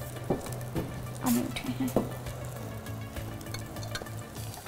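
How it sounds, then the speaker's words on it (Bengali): Eggplant slices sizzle steadily in hot oil in a studio kitchen, with a few clicks and utensil knocks over a low background hum, while people exchange brief words nearby. "বেগুন ভাজা আমাদের হয়ে যাচ্ছে"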